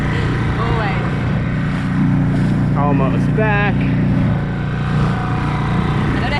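A boat engine runs with the choke out, a steady close droning rumble that continues throughout while a person talks briefly over it.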